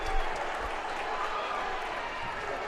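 Crowd noise fills a high school boys basketball gym, a steady wash of cheering and applause with a couple of louder bursts near the start, continuous and moderately loud throughout.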